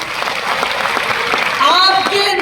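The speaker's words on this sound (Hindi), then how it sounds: "स्पेशली कंपनी के वीपी आलोक पांडे सर के लिए जोरदार तालियां।" Loud, sustained applause from an audience at a MI Lifestyle corporate event in Delhi, a dense steady patter with a voice briefly rising over it near the end.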